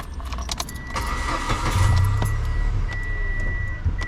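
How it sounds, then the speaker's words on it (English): A Mitsubishi Mirage is started from the driver's seat after work on a shifter stuck in park. Keys jangle close by, then the engine cranks and catches into a steady idle with a faint tonal whine. "So start the car."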